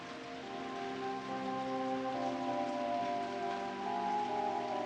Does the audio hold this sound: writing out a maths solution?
no